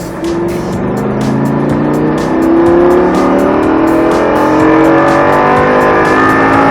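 A Lamborghini engine pulls hard under acceleration during track driving, its loud, continuous roar climbing steadily in pitch without a break for the whole stretch.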